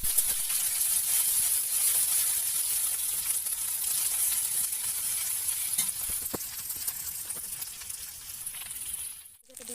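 Chopped ginger and garlic sizzle in a hot pan with oil, a steady, close hiss of frying that holds evenly, then dips and breaks off with a brief clatter at the very end.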